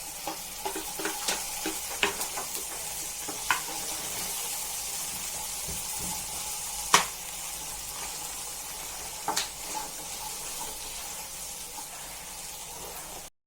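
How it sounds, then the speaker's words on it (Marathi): Onion sautéing in a pan for a spiced aubergine dish, a soft steady sizzle broken by repeated spatula taps and scrapes, a few louder knocks, close and fairly quiet with no talking. "कांदा छान परतून घेऊया"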